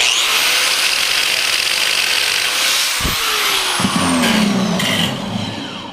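A DualSaw CS650 dual-blade saw runs and cuts, giving a loud, continuous high whine with grinding texture, a momentary dip in the middle, then a shifting pitch as it works through the material.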